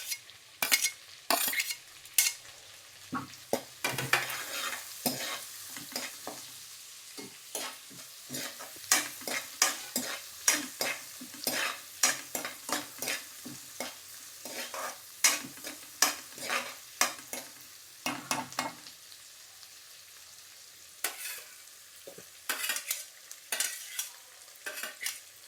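Cumin, curry leaves, green chilies and garlic for jeera rice are stirred in a hot pan, with soft sizzling under repeated sharp clinks and scrapes of a metal spoon against the pan, irregular and close, no voices.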